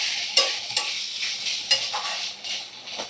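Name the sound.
stirring grated coconut in a cooking pan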